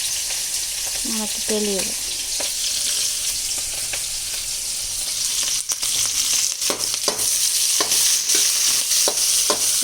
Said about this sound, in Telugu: ఒక్కొక్కటి వేయించుకుందాం, ఎందుకంటే ఇవి ఒక్కొక్కలాగా వేగుతాయి